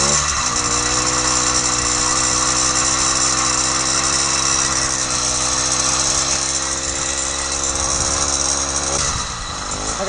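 An 80cc two-stroke engine kit fitted to a classic Schwinn bicycle idles steadily and loudly up close, a buzzing, rattly drone that holds constant for about nine seconds before briefly dipping and recovering near the end.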